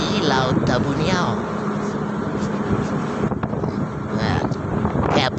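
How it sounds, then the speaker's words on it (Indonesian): Strong storm wind roars steadily at sea beside a barge off Tabanio, with broadband gusting noise and wind buffeting the microphone; engine-like rumble may sit beneath, and voices seem present. "angin ribut di laut Tabuniau"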